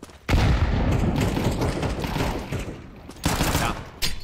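Rapid gunfire bursts in a Counter-Strike 2 match, loud dense volleys of shots starting abruptly, pausing briefly, then resuming in short sharp bursts.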